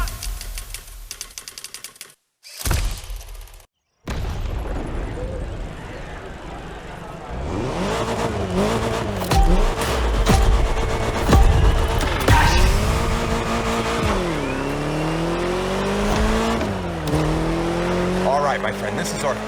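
A race car in The Crew Motorfest revs and accelerates, its engine note rising and falling through gear changes, with tire noise and brief pauses early on, loud and close.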